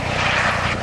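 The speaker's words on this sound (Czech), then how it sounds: "Maximální vzletová hodnotnost tohoto vrtulníku je 2700 kg." A Eurocopter EC 135 T2 helicopter at the 2017 Čáslav air show produces a loud, steady turbine and rotor roar that stays close and unbroken.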